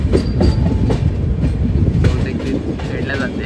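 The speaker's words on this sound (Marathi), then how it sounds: "अजून एक ट्रेन इथे." A train rolling past at a railway station on the Mumbai LTT to Jaynagar route, a loud, close, continuous rumble with rhythmic clattering of wheels over rail joints and faint voices in the background.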